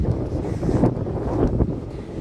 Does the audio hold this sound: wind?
yes